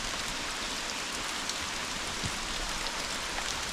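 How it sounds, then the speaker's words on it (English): Pouring rain at an off-grid cabin construction site in the woods, a steady, dense hiss of drops that fills the whole stretch without any voices. "She's just a pouring rain"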